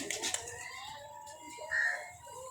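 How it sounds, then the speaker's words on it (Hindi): Flying pigeons coo in a quiet, fairly close murmur, with a few soft call notes rising and falling over a low background, and no talk. "ये खूब कबूतर हैं उड़ने वाले"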